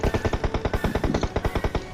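Rapid automatic gunfire in the mobile battle royale game PUBG Mobile, a steady stream of about two dozen sharp, evenly spaced shots in quick succession, loud and close, with no talk over it.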